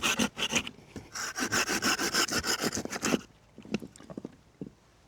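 A knife carving a point and facets on a wooden tent peg: a quick run of close, rasping shaving strokes, then a sparser series of lighter scraping cuts.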